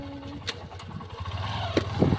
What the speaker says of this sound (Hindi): अभी देखिए हम लोग जा रहे हैं, मोटरसाइकिल आ चुका है।